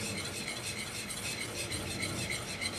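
A spoon stirs and scrapes béchamel cream sauce in a pot as it comes to a boil and thickens, making a faint, continuous soft scraping and swishing with a light sizzle underneath.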